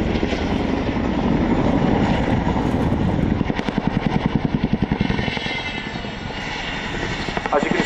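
A Chinook twin-rotor helicopter flies a display at the Royal International Air Tattoo 2015, a loud roaring turbine drone with deep rhythmic rotor chop emerging midway, and a commentator's voice runs over it.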